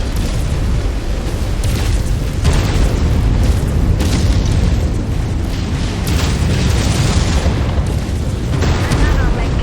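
An enemy Hunchback mech is destroyed in the MechWarrior 5 video game, setting off loud, continuous booming explosions with heavy low rumble that fill the whole stretch, dense and close, with bursts layered over one another.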